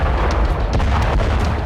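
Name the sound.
Russian artillery shell explosion detonating tons of gunpowder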